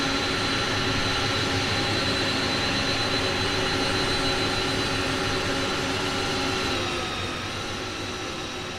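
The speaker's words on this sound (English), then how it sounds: "Goes another aircraft." Aircraft engine roar in Microsoft Flight Simulator near an Inibuilds A300-600F freighter: a loud, steady jet drone with sustained tones that fades slightly at the end.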